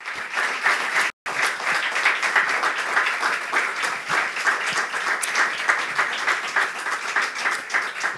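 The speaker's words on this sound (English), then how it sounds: "give them a round of applause for them both" Sustained, dense applause from a conference audience, steady and loud throughout with a very brief gap near the start, no voices over it.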